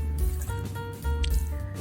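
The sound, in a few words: water pouring into pot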